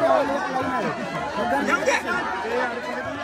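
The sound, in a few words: huge crowd of devotees at Ekvira palkhi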